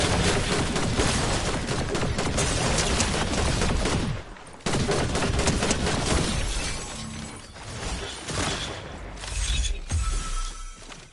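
Gunfire in the video game Fortnite: dense, loud bursts of rapid shots with a shattering crackle, a brief pause near the middle, then more volleys that fade toward the end, with no talk.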